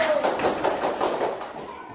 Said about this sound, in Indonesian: Tepuk tangan untuk pemenangnya adalah